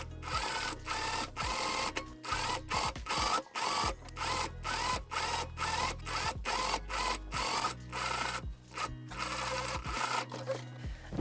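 A sewing machine stitches a triangular waistband onto a ruffled mini skirt, running in quick rhythmic bursts of whirring that repeatedly stop and restart, close and clear with no talking.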